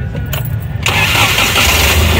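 A used Suzuki Ravi pickup's engine cranks in short bursts, catches, and settles into a loud, steady close-up idle.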